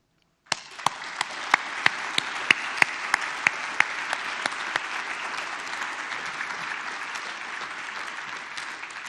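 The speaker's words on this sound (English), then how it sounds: "Let's have a round of applause." An audience at an association's distinguished fellows recognition ceremony claps for an honoree, a dense round of applause that starts abruptly and holds steady for several seconds, punctuated by a few sharp, loud individual claps near the front.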